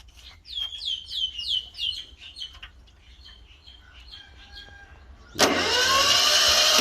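Birds chirp quietly at first, then an old Japanese Yanmar 16 hp diesel engine suddenly starts and keeps running loudly and steadily close by.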